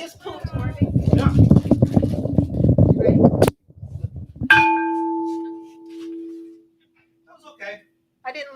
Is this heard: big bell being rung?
yes